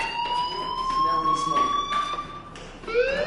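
A fire alarm rings inside the video game Life is Strange. It is a steady, piercing electronic tone with bright overtones that holds through the whole stretch and shifts pitch slightly toward the end.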